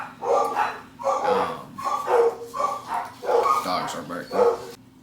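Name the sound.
dogs barking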